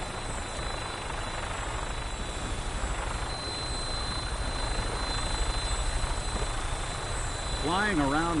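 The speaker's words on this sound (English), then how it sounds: "Flying around in a 200-year-old aircraft?" Vertibird aircraft flying in the video game Fallout 4, a steady, close rotor-and-engine drone that continues throughout, with a voice speaking over it.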